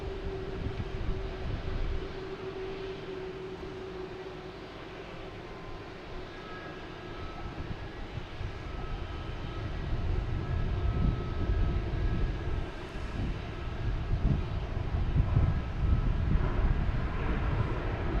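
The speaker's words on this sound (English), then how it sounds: "Got United Airlines coming in from Chicago, 737-800." A United Airlines Boeing 737-800 inbound from Chicago to Boston Logan, near the harbor, gives a steady, broad jet roar that builds gradually and grows louder over the stretch, with no one talking.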